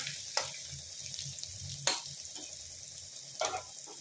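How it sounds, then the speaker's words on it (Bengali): Potatoes fry in a pan with a steady soft sizzle, broken by a few sharp spatula scrapes and taps as they are stirred and pushed aside. "দেখুন আলু ভাজা হয়ে গেছে, এবারে আমি একটুখানি ফাঁক করবো এই জায়গাটায়, আলুটাকে একটু সরিয়ে দেবো"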